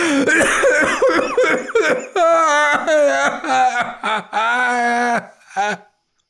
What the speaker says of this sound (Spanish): rió hasta toser y atragantarse